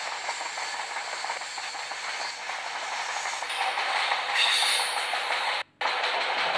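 Train passing close alongside a moving Pushpak Express LHB coach, a steady loud rushing rumble with faint clickety-clack and a sharp dip where the passing train ends, no talk.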